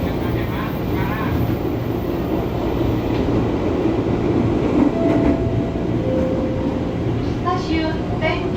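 Commuter train pulling away from Tenjo station, a loud close rumble of wheels and railcars with clicking rail joints and brief squeals, steady throughout with faint voices underneath.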